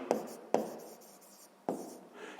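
Pen or chalk writing out a math solution for a sixth-grade exercise: three distinct scratchy strokes, each starting sharply and trailing off, close and fairly quiet with no talking.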